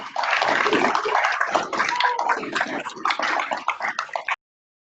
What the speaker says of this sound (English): We'll all unmute and give one big loud round of applause